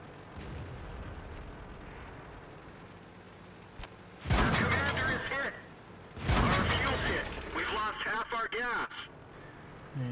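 Tank cannons fire in World of Tanks, with two loud, booming bursts that ring out and decay, followed by a run of choppy rumbling blasts over a quiet game background.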